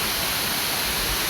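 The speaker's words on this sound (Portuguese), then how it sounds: "Estou aqui na cachoeira desse Cerrado." Steady broadband rush of a waterfall in the Brazilian Cerrado, a constant loud roar of falling water with no other sounds over it for a brief moment.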